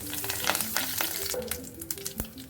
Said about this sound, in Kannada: ಸ್ವಲ್ಪ ಆಯಿಲ್ ಹಾಕ್ತೀನಿ. ಸಾಸಿವೆ, ಕರಿಬೇವು,